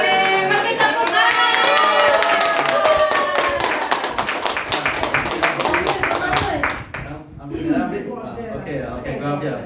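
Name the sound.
audience clapping hands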